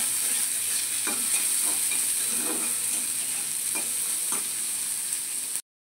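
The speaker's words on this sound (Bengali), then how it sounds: "এবার দেবো পেঁয়াজ কুচি। দিয়ে ভালো করে নাড়বো।" Chopped onion fries in hot oil with nigella seeds, dried chillies and bay leaf, giving a steady close sizzle with spatula strokes scraping through it at intervals.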